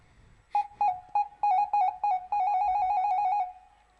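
A telephone ringtone sounds during a stage cultural programme: a few short electronic bursts, then a longer sustained ring, fairly loud and clear over a quiet background.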